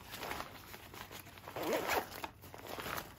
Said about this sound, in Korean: 하나 더 지퍼를 열면 여기에도 수납할 수 있는 공간이 있습니다.